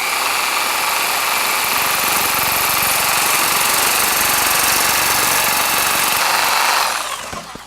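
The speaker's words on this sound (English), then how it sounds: "Now we gotta reach in here and cut the pipe at the right place." A power saw cuts through a sump pump discharge pipe, a loud continuous high-pitched whine with grinding texture held for about seven seconds before winding down.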